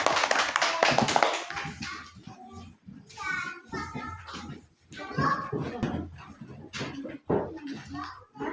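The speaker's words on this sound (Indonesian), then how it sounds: "Kasih aplaus untuk kelompok C" Classroom applause for group C: a brisk burst of clapping at the start, then children's voices chattering nearby.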